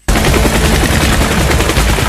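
Rapid, sustained gunfire erupts suddenly and continues without pause, loud bursts of shots overlapping in a dense automatic barrage.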